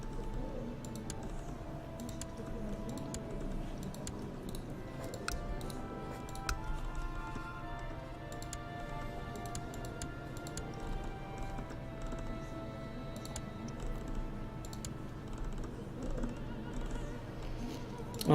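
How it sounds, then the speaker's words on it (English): A computer mouse scroll wheel and mouse buttons clicking in fast, irregular ticking bursts during a strategy game session, fairly quiet, over faint background game music. "Oh, the sound of that scroll wheel."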